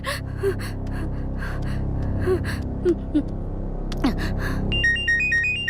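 Phone ringtone chiming near the end, a bright repeating electronic melody entering after gasps and breathy sounds in a Bhojpuri film scene.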